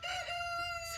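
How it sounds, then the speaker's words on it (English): A rooster crows once in a single drawn-out call, loud and close, with faint background noise from the farmyard. "There's the rooster."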